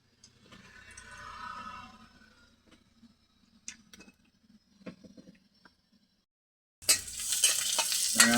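Cumin and dried red chillies hitting hot oil in a pan for Odia dalma, a sudden loud, steady sizzle bursting in after several seconds of quiet stirring and light clinks.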